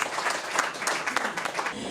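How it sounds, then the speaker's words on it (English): Audience applause at an awards event in a restaurant, steady clapping from a crowd filling the room, loud and close throughout. "Give it up one more time for Momo."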